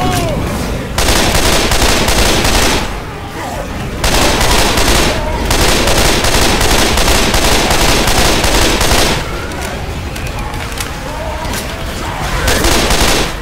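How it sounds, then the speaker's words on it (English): Rapid automatic gunfire in the zombie shooter Left 4 Dead comes in long, loud, dense bursts with short pauses between them, sounding close and continuous. "Watch where you're shooting!"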